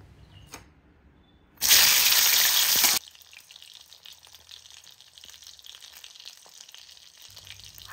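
Hilsa fish head fries lightly in oil, a loud burst of sizzling that lasts about a second and a half, then fades to soft crackling and faint stirring with no voices.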